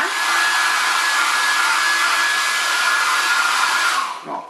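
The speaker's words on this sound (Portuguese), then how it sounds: "eu pego e repasso o secador em todo o entorno da caixa" A hair dryer blows a steady loud stream of air over a painted MDF box for about four seconds, then switches off and winds down, with no voices.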